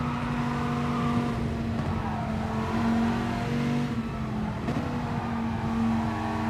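Steady, loud onboard drone of a Dodge Viper GT4 race car engine in a sim racing game, holding a high revving tone with slight pitch shifts as it runs through corners.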